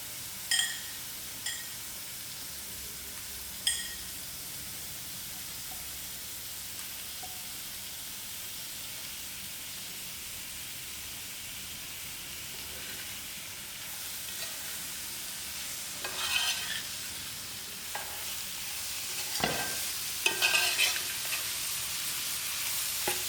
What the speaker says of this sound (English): I'm going to throw in the soya chunks to fry out in the masala